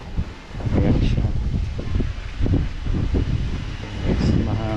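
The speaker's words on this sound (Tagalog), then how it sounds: "Yes, mahangin siya." Wind gusting across a high rooftop terrace by an attic, overlooking a swimming pool and mountains, a steady rushing roar buffeting the microphone throughout, with a voice speaking over it.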